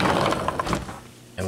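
A sliding patio door rolls shut along its track with a rumbling, rattling slide, then a brief quiet before a short thump at the end.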